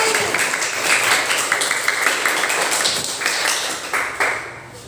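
A classroom of students clapping their hands together, a busy patter of many small claps, fairly close and moderately loud, tapering off toward the end.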